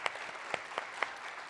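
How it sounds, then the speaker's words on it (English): Brief, quiet round of applause from a lecture audience acknowledging students, with a few distinct claps standing out over a soft smatter of clapping. "would you mind giving them a little round of applause?"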